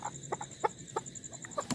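Backyard egg-laying hens cluck in short, quick bursts, several soft close calls in a row over a steady high electrical hum.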